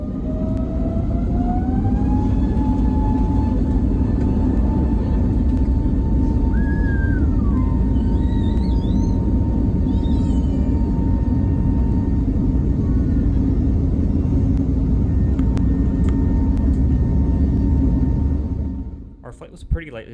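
Loud, steady jet engine roar with a rising whine as a lightly loaded Sky Express Airbus A320neo speeds up for takeoff, continuous and close, fading near the end.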